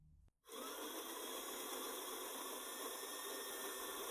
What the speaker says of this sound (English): press the button on the grinder and stop when the portafilter fills up.